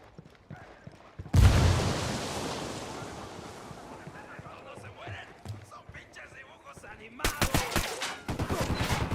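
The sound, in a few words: grenade explosion and gunfire in video game Ghost Recon Wildlands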